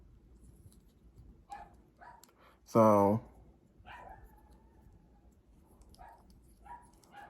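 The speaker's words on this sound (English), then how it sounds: "That's my dog barking." A single loud bark rings out nearby, surrounded by quiet, scattered speech and faint background noise.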